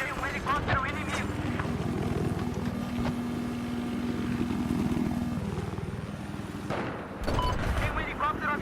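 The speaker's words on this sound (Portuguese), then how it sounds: "Tem um helicóptero avistado." An enemy helicopter in a video game thrums through a steady rotor drone amid bursts of gunfire, while voices talk over the battle noise.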